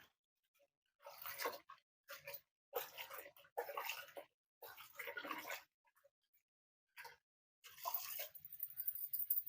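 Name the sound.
washing gongura leaves in a bowl of water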